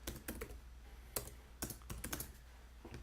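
Keys clatter on a computer keyboard as a cd command is typed in a Windows 10 terminal, a quick irregular run of close, fairly quiet key clicks with short pauses between bursts.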